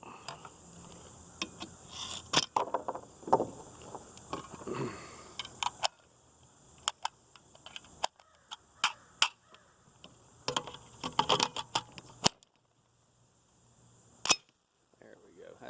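A 6.5 Grendel AR rifle with a Bear Creek Arsenal upper has a double feed cleared by hand. Sharp metallic clicks and clacks come in irregular bursts, close and fairly loud, with quieter handling noise and short silences between them.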